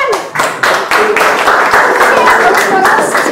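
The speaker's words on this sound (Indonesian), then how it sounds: "Ya, tepuk tangan." An audience claps in a burst of loud, dense applause, hands striking in quick overlapping bursts close by throughout.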